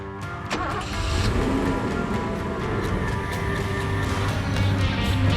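A car engine runs at idle with a steady, low rumble and light mechanical clatter, heard close and holding a constant level throughout.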